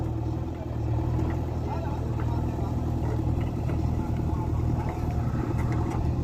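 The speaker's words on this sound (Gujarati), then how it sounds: "જેસીબી ચાલુ જ છે" A JCB excavator works to deepen a village pond, its engine giving a steady, dense mechanical rumble that continues without a break, heard from nearby and fairly loud throughout.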